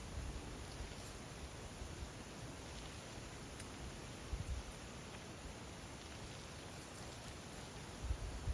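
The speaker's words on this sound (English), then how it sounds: "You see the waterfall?" Steady, dense rushing of falling water from a waterfall in Lamington National Park fills the whole clip, constant and even like a distant cascade, with no voices.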